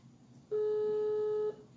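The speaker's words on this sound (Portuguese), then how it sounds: "Eu vou desligar e vou ligar novamente para o Trevisani para ver se melhora aqui o áudio." A single steady telephone tone sounds for about a second, clear and close, heard while redialing a call, with faint background noise before and after.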